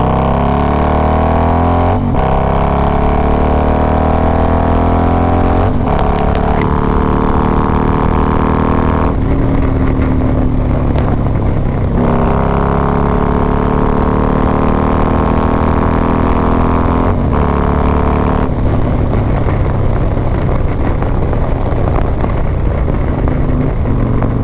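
A Harley-Davidson Road Glide fitted with an S&S 475 cam and a Vance and Hines fuel pack tune idles loudly up close, its lumpy, uneven chop pulsing steadily with a few brief throttle blips along the way.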